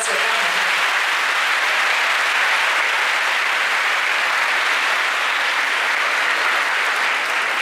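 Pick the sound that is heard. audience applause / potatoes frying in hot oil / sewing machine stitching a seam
audience applause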